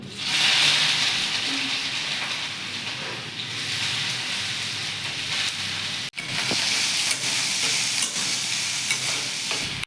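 Whole cardamom, cinnamon, cloves and chopped onion sizzle steadily in hot oil for chicken pulao, a loud continuous crackling hiss with stirring, briefly cut off once partway through.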